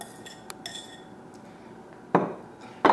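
Wet banana mixture goes into a flour bowl for banana bread, with a few faint soft taps at first, then two sharp, close clinks of utensils against the bowl near the end.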